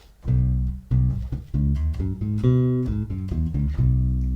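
Bass guitar plays a short fill running up and back down the major pentatonic scale in C, a string of distinct plucked notes with deep low tones, close and clear, no talk.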